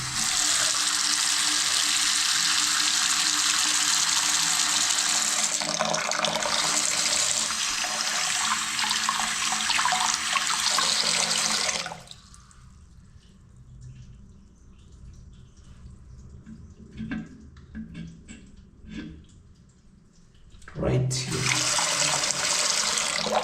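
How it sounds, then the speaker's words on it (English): Tap water runs steadily into a sink for hand washing beside the toilets of a Nairobi city home, a loud continuous splash that drops away for several seconds before surging back. "if you finish visiting the toilets, you can wash your hand here."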